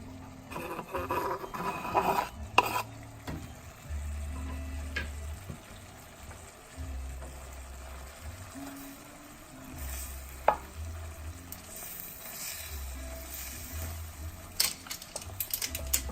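Chilies frying in a pan for a South African chicken giblets curry give a soft, steady sizzle, broken by recurring low scraping and stirring knocks.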